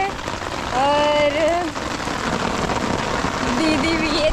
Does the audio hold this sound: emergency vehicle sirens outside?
no